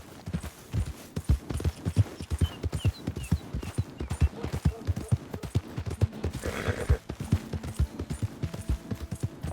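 Steady clip-clop of horse hooves trotting in Red Dead Redemption 2, rhythmic and fairly close, with a faint snort or whinny partway through.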